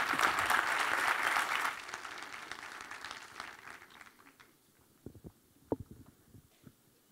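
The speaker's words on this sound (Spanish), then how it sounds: "Un aplauso, por favor." Audience applause at the end of a conference talk, a full burst of clapping that tapers off over a couple of seconds, leaving a few scattered claps and faint room noise.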